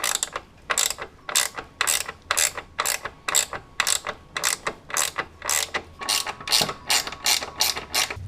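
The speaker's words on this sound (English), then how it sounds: "I have these really trick wrenches that have a spline in them that will do the trick for me" A splined ratcheting wrench working a fastener on a Prevost bus, giving a steady, loud run of close ratchet clicks in even back-and-forth strokes.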